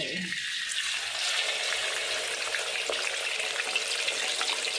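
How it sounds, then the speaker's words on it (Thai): Steady, loud sizzling of fish frying in hot oil until golden and crisp, a continuous crackling hiss with no talking. "ตอนนี้ก็ทอดเลยค่ะ ทอดให้เหลืองกรอบเลยนะคะ"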